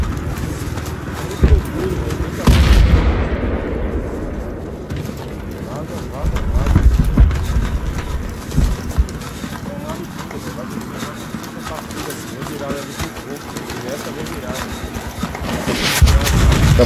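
Gunfire in Battlefield 3 on the Operation Firestorm map during team play, with bursts of shots and booms mixed into dense in-game noise. Players talk in Portuguese over the action throughout.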